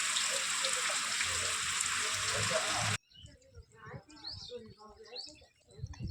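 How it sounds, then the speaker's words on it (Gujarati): Steady rain falls during a storm system over Gujarat, a dense, even hiss that holds for about three seconds and then cuts off abruptly, leaving faint background sounds with a few bird chirps. "પણ વરસાદ બંધ થયો નથી"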